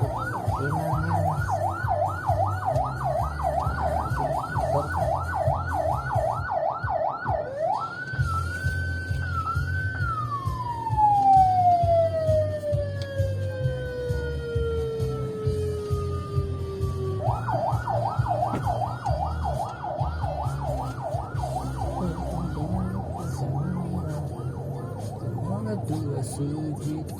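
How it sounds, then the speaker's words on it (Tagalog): An ambulance driving counterflow on a Quezon City to Manila road sounds its siren close by, cycling a rapid yelp, then a long rising wail that slowly falls away, then the rapid yelp again, over a constant hum of road traffic. "Yung ambulansya nag-counterflow."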